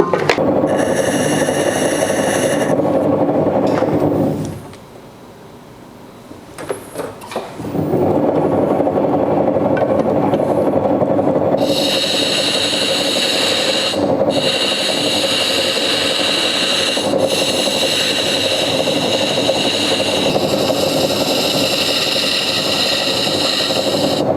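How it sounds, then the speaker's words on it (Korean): A plaster lathe carving a plaster model, a steady motor hum with scraping and rasping as the cutter shaves the plaster, briefly dropping away near the start before resuming with sharp tonal whine. "그걸 기준으로 한번 깎아 보도록 하겠습니다"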